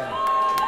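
A wrestling crowd at a Stockholm event shouts together in a dense, steady roar, with two brief louder bursts of yelling rising out of it.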